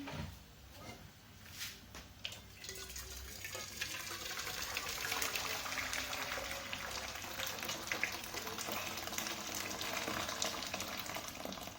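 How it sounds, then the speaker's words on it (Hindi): Water bubbles and churns in a pot, a steady rolling boil for cooking spaghetti, with hissing and gurgling that grows slightly louder after the first few seconds. "पानी को बॉईल होने देंगे।"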